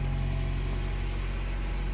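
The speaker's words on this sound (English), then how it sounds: "That car just started first time after 5 years." A Honda Prelude engine runs on five-year-old fuel after first starting in five years, a steady, even hum and rumble that stays constant and fairly close with no voices.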